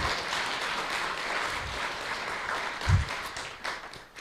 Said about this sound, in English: Let's give a big round of applause for His Grace Shamananda